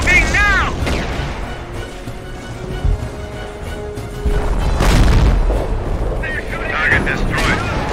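A destroyed target explodes in the Company of Heroes strategy game, a deep boom rolling out amid battle noise, gunfire and scattered soldier voices talking over the action.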